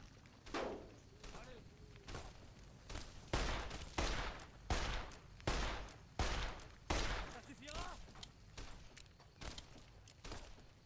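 Gunfire in Fallout: New Vegas, a series of loud, evenly spaced shots roughly every half to one second across the whole stretch, with some talk mixed in.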